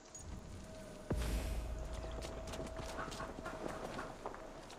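Horse hooves clip-clop at a slow walk in Assassin's Creed Valhalla, soft and fairly quiet, with irregular steps over faint ambient game sound.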